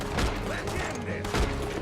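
Gunfire in Red Dead Redemption 2 during a shootout at Horseshoe Overlook, a dense burst of shots crackling close and loud over a rumbling background, with two sharper reports standing out.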